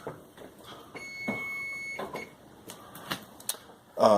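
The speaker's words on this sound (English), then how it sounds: "There's the timer." A kitchen timer beeps in a home kitchen during caramelized honey mead brewing, a sustained electronic tone followed by a few short beeps, fairly faint, with light handling noise around it.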